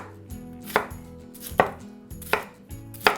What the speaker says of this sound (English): And then we're just gonna give this a nice chunky rough chop.